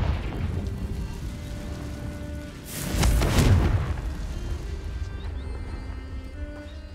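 A Confringo fire spell explodes in Hogwarts Legacy: a single loud burst with a rumbling boom midway, over quiet game ambience and a low tonal hum, with no talk.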